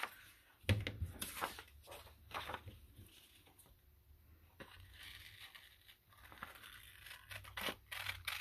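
Paper cutouts being trimmed for a junk journal, with faint snips and crinkling rustles of paper at irregular intervals, close but quiet.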